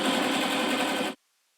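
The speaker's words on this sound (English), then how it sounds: "I'm just going to sew to the corner, drop the needle, pick it up, turn it" A sewing machine stitches up to the corner of a zippered pouch made from scrap material, giving a close, steady whirring run of about a second before it stops abruptly into silence.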